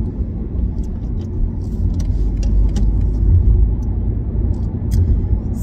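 Inside a car heading onto a highway in Germany, a steady low road rumble and engine drone carries on throughout, with faint small rattles and clicks over it.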